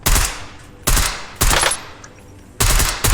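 Call of Duty Warzone gunfire rings out in four sharp, loud bursts of rapid automatic shots, each cutting off abruptly with short gaps between.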